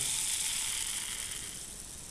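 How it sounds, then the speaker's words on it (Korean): Millet grains poured into a clear plastic tube make a continuous smooth hissing rush, close and steady, fading slightly toward the end. "투명관에 재료에 들어있는 스티로폼 공을 넣어주세요. 그리고 좁쌀을 모두 넣어줍니다."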